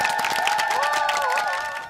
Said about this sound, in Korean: 자, 우리 서로에게 박수 한번 보낼까요?